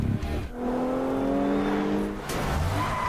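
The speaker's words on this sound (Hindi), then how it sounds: "ओ भाई देखो कैसे गाड़ी चल रही है" A car drives in GTA Vice City, its engine revving with rising and falling tonal whine, loud and continuous with brief dips as it shifts.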